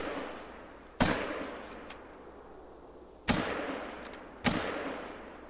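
Three loud gunshots ring out in the hunting video game The Hunter: Call of the Wild, each a sharp crack with a fading echo, spaced a couple of seconds apart against a quiet background.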